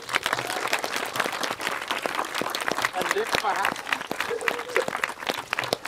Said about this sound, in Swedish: en stor applåd för Job Andersson